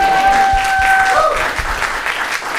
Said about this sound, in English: We can clap. We can clap.